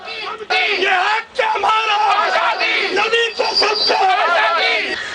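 Protesters at a Kashmir rally outside the Indian consulate in Frankfurt chant slogans in unison, loud massed voices rising and falling in repeated shouted phrases with brief pauses.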